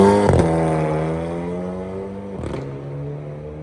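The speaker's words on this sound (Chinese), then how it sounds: "这段顺便给大家听个声浪，赛车就是响，噼里啪啦的" A race car's engine roars loud and close, pitch rising under revs, then a sharp crackle of exhaust pops and a gear change near the middle before the steady roar resumes.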